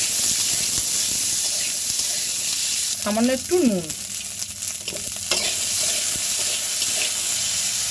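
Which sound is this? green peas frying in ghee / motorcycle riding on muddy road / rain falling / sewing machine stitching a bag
green peas frying in ghee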